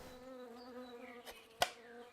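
Bees buzzing close by around hives where keepers work, a faint steady droning hum with a brief sharp rise as one passes near; no talking.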